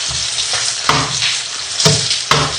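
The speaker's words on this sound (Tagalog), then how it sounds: "Mainit na yung oil, ilalagay na natin yung eggplant natin. Gigisa lang muna natin siya hanggang sa mag-color brown na siya." Eggplant sautéing in hot oil in a wok for a Chinese stir-fry, a steady loud sizzle broken by three sharp scraping stirs of the spatula.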